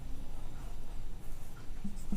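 A marker or chalk scrapes across a board in short strokes while vector terms are worked out, faint and steady under room hum, with no voice.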